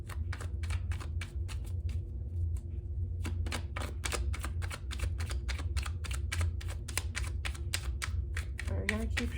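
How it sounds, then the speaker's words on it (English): Tarot cards are shuffled up close in quick, sharp riffling bursts, a rapid run of crisp snaps with a short pause partway through. "We're gonna keep shuffling until it feels right."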